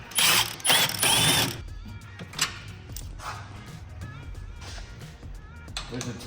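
A ratchet loosening 13 mm bolts while removing a cover from a car engine, with fast loud clicking bursts at the start, then quieter intermittent ratcheting and soft mechanical clunks up close.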